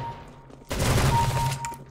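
Gunfire in the video game CS:GO: after a quiet start with a faint tone, a sudden loud burst of rapid shots lasting about a second, close, then trailing off.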